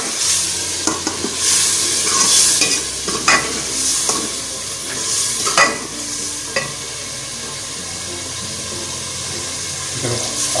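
Mutton shorba masala with onion and tomato is stirred in a pot, steady frying sizzle broken by scraping strokes and occasional louder clatters, loud and close with no talk.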